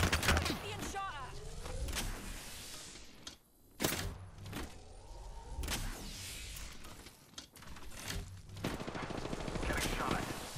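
Bursts of gunfire from the video game Apex Legends sound in sharp volleys and single cracks, mixed with mechanical clicks and game effects, while a voice talks over them.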